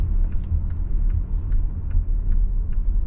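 Cabin noise inside a Volkswagen Touareg SUV with a four-cylinder diesel, driving at low speed: a steady low road rumble with faint regular ticking above it and no talk.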